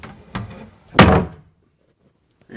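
A kitchen pantry cabinet door, newly fitted with side panels, opens with a soft knock followed by a louder wooden thunk about half a second later, then quiet.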